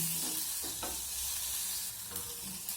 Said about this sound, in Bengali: সব কিছু আবারও নাড়িয়ে চাড়িয়ে কিছুক্ষণ ভেজে নেব।